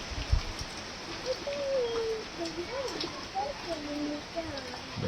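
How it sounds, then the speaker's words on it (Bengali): Steady rain falling during a morning storm, a dense even hiss close by, with a bird calling faintly over it and a person speaking briefly. "বছরের প্রথম ঝড় বৃষ্টি।"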